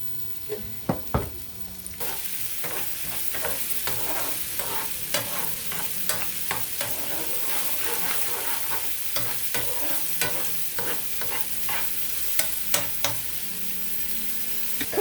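Shallots and garlic fry in a pan and are stirred, a steady sizzle under repeated sharp scrapes and clicks of a utensil, close and alone.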